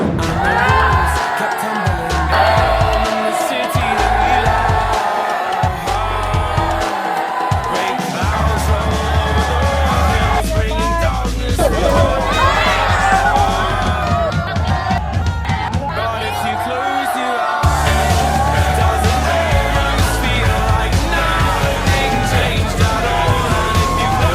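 A packed arena crowd in Tagum at an exhibition game cheers and yells loudly and continuously, with whoops and shouts swelling and dipping throughout.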